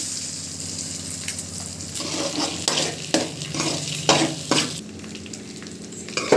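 Egg is stirred into noodles frying in a pan with salt, chili powder and tomato pieces, giving a continuous close sizzle with repeated scraping, clattering stirs over it.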